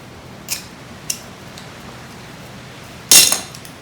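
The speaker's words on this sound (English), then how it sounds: "So let me cut a 20-inch piece here." A pair of scissors cuts through a 1/2 inch rope, giving two small snips early on and then one louder, sharper cut near the end, close to the microphone with no talking.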